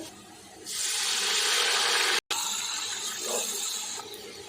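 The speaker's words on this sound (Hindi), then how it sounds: "प्याज में अगर हम थोड़ा सा पानी डालते हैं" A loud, sudden sizzling hiss bursts out as water is poured onto browned onions frying in a pan, crackling steadily, with a brief dropout partway through.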